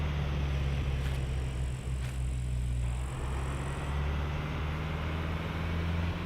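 A car drives in the survival game SCUM, its engine a steady low droning hum with constant road rumble throughout, loud and close, with no talking over it.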